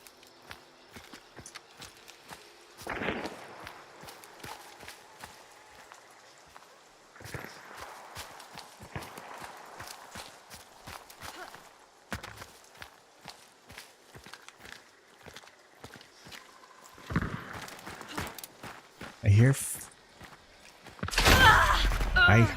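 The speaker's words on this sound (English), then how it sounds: "I heard footsteps near me." Footsteps nearby in a video game thud in irregular runs of steps over about twenty seconds, faint to moderate, with occasional louder bursts and heavy noise at the end.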